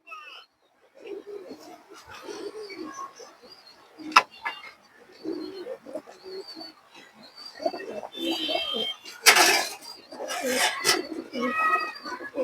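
Tournament racing pigeons coo in soft, throaty bursts close by, mixed with occasional sharp flaps and clatter. Someone talks intermittently over the birds.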